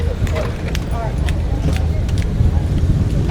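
Cars pulling away along a street cleared during an old town car show, a steady low engine and road rumble with clicks and clatter on top, heard close under a man's speech.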